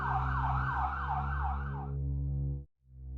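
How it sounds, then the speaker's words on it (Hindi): An ambulance siren wails loud and close in a rapid rising-falling pattern over a steady low engine drone, then cuts off abruptly. "एम्बुलेंस से लोगों को अस्पताल पहुंचाया जाता है।"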